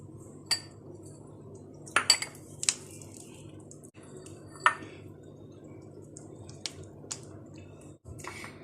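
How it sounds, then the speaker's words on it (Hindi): Kulfi is spooned into ice cream bowls and topped with pistachios and almonds, giving a quiet run of scattered clinks, taps and small drips against a faint background hum, with no voices. "अब मैं इसको आइसक्रीम बाउल में डालूंगी या फिर जो भी बाउल आप लेना चाहें फ्रीज करने के लिए।"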